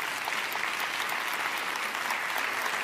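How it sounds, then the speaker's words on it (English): Audience applause at the close of a panel discussion on artificial intelligence in the media, a steady, dense wash of many hands clapping throughout, sustained and even with no voices above it. "Give them, please, a warm applause."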